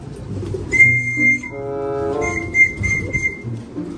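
A person whistles a few loud, high, sustained notes in short bursts to call pigeons, a held call repeated with pauses, over faint outdoor background noise.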